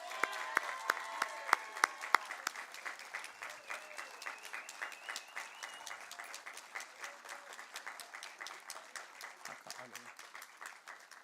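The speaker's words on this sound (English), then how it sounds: "Lamori another round of applause." An audience at a local vocal competition gives a round of applause, fairly faint and somewhat distant, with a loose patter that thins into more sparse, rhythmic claps as it goes on.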